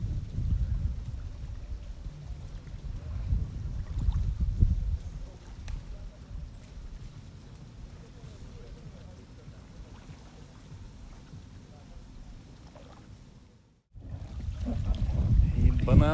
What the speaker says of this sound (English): they started their engine too, because they start moving quite fast